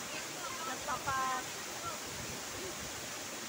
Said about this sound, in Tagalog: ito yung Balagbag Falls